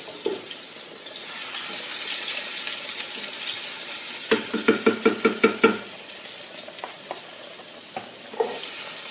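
Garlic fries in a pan for a beef stew, giving a steady bright sizzle with a quick run of rhythmic stirring or scraping clicks midway, then scattered softer knocks as it browns; no voices.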